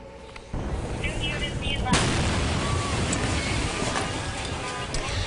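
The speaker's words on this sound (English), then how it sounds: "A large fireworks explosion left 9 people injured and an armored bomb squad car destroyed." A large fireworks explosion in Los Angeles that destroyed an armored bomb squad car: a sudden loud blast kicks in, then a second sharp burst, with a dense roaring rumble continuing throughout.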